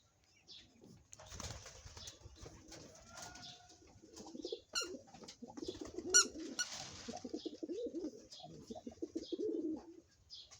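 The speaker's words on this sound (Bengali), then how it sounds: "মেলা কবুতর আমার আব্বুর, তাড়া দিলি হয়।" A flock of released pigeons flutters and flaps wings nearby, followed by low rhythmic cooing from several birds, with people talking over the birds.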